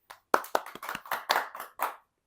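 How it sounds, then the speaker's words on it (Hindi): A short burst of hand clapping from a small studio talk-show audience, several sharp claps in quick succession, lasting about two seconds before stopping. "जोरदार तालियां इनके लिए।"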